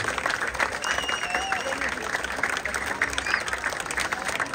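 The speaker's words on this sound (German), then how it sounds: "nochmal einen riesigen donnernden Applaus geben" A crowd applauds parade participants at the opening of the 216th Vegesacker Markt, sustained clapping outdoors with faint voices and a few whistles mixed in.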